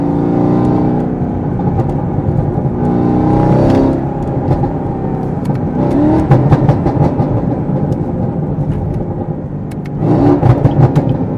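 A tuned Camaro ZL1 engine revs up and down loudly several times, with sharp crackling exhaust pops between the rises, close and without talk.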